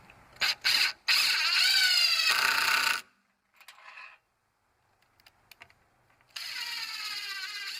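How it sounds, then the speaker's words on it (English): Cordless drill driving screws to join wooden pieces for a solar air heater frame, two short bursts followed by a long whining run, a quieter pause with small clicks, then another sustained drilling whine, close and loud. "So I'll just go ahead and screw these together"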